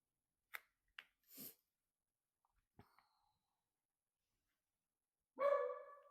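A pet dog gives a few scattered barks, short and quiet at first, then one louder, fuller bark near the end, with silence in between.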